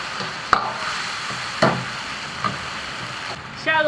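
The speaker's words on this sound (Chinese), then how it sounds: "稍微炒香了，再把这个鸭肉下锅" Duck meat fried with soybean paste in a wok, giving a steady sizzle with a few sharp clanks of the spatula against the pan.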